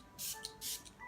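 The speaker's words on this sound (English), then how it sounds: "She has asked me to use Archangel Chamuel spray" Archangel Chamuel spray hissing from a pump bottle in three close bursts, each about a quarter second long, set against a quiet room.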